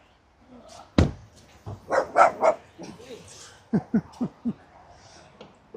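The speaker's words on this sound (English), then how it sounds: "Dog going off its head." A dog barks repeatedly nearby in short bursts, a cluster of quick woofs followed by another rapid run of barks.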